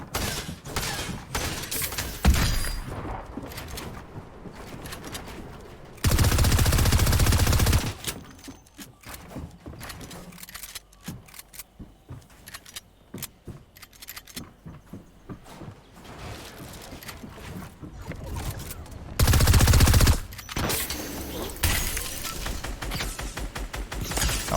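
Rapid gunfire in a building-style shooter video game comes in two loud, dense bursts. Lighter clicks, footsteps and game effects sound between them.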